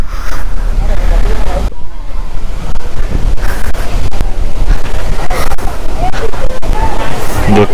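Sea waves surging up a beach and flooding it, a loud, continuous rush of surf mixed with strong wind noise, while people talk nearby.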